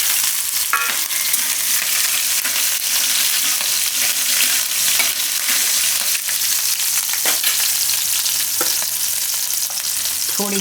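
Green chilies dropped into hot oil alongside browning cashews for methi matar pulao, loud dense sizzling and spattering close up that runs unbroken, with a few scrapes of a spoon.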